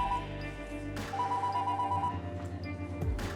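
A telephone rings in an indoor scene of a French-dubbed Portuguese drama series, a fairly faint, rapidly trilling electronic ring over a low room rumble, cut by a couple of soft thumps.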